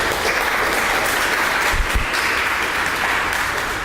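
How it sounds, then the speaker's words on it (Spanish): An audience claps steadily at a technical talk on neutron flux in a nuclear reactor fuel element. The applause is dense and sustained, with no voices over it. "Un aplauso para nuestro expositor."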